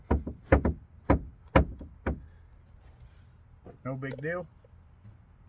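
Composite decking board being knocked into its groove, a series of sharp close taps in quick succession, followed by a brief spoken remark.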